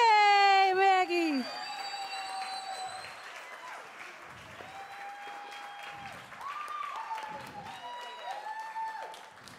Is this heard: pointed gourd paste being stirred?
no